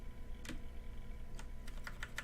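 Scattered keystrokes on a computer keyboard, a handful of quiet separate clicks close by with a faint hum underneath and no talking.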